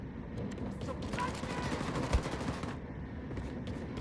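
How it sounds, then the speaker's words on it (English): Rapid automatic shotgun fire in the shooter Wolfenstein II: The New Colossus, a dense burst of blasts lasting about two seconds amid game ambience, with a voice talking over it. "Is this an automatic shotgun of sorts?"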